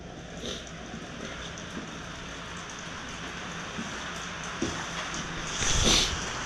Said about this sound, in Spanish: pues está lloviendo ahora muchísimo